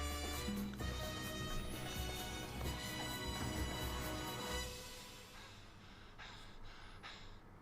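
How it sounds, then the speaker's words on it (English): A cartoon pony tap dances at a fast pace, rapid hoof-like taps clattering densely over loud music, thinning out and quieting over the last couple of seconds. "Ooh, nice fast tap."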